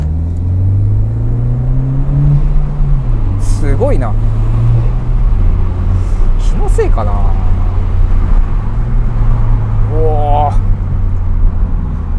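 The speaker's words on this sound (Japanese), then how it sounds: "室内で聞くマフラーの音の質がやっぱり若干良くなったかな。" Honda Civic FK7 with an aftermarket muffler, heard from inside the cabin as a steady low exhaust drone on a narrow road, rising and settling in pitch, with a person talking over it.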